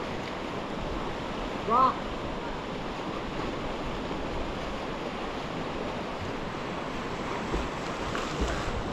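Water rushes steadily through river rapids as a swimmer enters, a broad continuous roar with wind buffeting the microphone, and a voice speaks briefly over it.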